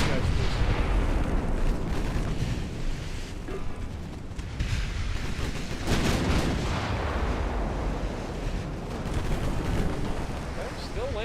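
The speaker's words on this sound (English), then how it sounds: "we're shooting the transports" Naval guns fire at troop transports in the Ultimate Admiral game, a dense, continuous rumble of booming artillery blasts and explosions, loud and unbroken, with someone talking over it.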